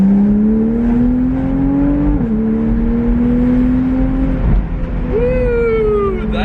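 2012 Porsche Boxster Spyder engine revving after a downshift on an open road: a close, droning engine note that climbs steadily, dips briefly at a shift, then climbs again, ending with a higher rising whine.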